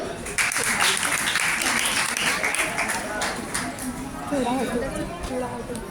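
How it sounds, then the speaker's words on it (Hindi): A crowd claps loudly for several seconds at a college freshers' party, with voices rising over the applause toward the end. "जोरदार तालियां बजाएं"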